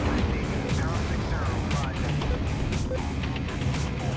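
Call of Duty: Black Ops 2 combat rages with dense gunfire, crashes and impacts in a loud, continuous barrage while voices shout over the chaos.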